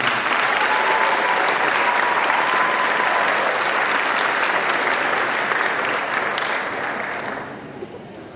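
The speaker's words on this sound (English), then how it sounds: "Let's give these 6 one more round of applause if you can." A graduation crowd claps in a full, steady round of applause that holds strong before gradually tapering and thinning out toward the end.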